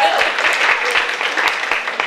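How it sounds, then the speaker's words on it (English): Brief burst of audience clapping at a women's distinction awards ceremony, a scattered patter of hands that runs steadily for a couple of seconds in a room. "Kara, you can clap."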